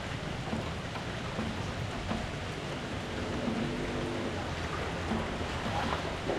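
Steady rain falls on a flooded house, a dense, even hiss of drops on surfaces that stays continuous and moderately loud throughout.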